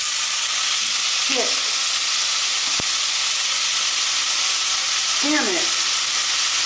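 Lemon honey garlic chicken thighs fry loudly in oil in a pan, a dense, constant sizzle close up, while a voice curses briefly over it.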